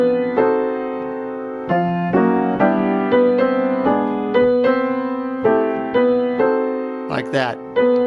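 Jazz piano fill figures, sounding as a series of clear, ringing chords and single notes struck one after another at a relaxed pace, with a brief higher flourish near the end.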